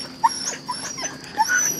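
Hunting dogs in a thicket of thorny bamboo give several short yips and whimpering barks, spaced apart at moderate distance over a quiet background.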